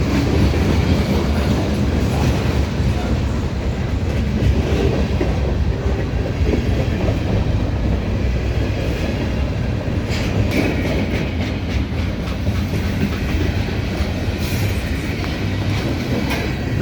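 A Norfolk Southern freight train rolls past westbound, a steady, loud rumble of wagons with rhythmic clickety-clack from the wheels over rail joints and faint metallic squeals, continuing throughout.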